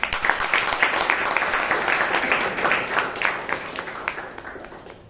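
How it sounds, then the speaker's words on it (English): An audience at a Toastmasters club meeting in Bangalore gives a round of applause, a crowded, fairly loud clatter of hands that holds steady and then fades out at the end. "Let's give him a round of applause"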